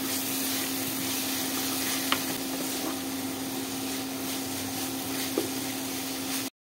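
Chopped spring onions with salt and pepper sauté in a pan as chicken momo filling, giving a steady, even sizzle that holds at one level throughout with a couple of faint clinks.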